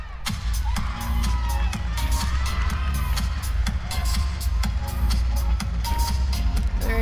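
A home crowd at a college gymnastics meet, BYU visiting Kentucky, cheers loudly and steadily, with whoops and shouts layered over a sustained roar from start to finish.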